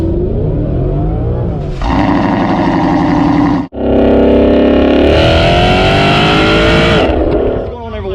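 A modified Mustang GT with a Whipple supercharger drag races a GTR. The engines roar loudly and continuously, climbing through the gears with a brief cut at a shift and a steady high-pitched supercharger whine, close and overpowering.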